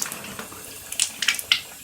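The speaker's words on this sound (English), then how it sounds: "we got the shower going, and it's not dripping." Shower water from a three-handle shower running after the diverter is switched over, a soft steady spray with brighter splashy bursts and drips spaced through it, fairly close and moderate in level.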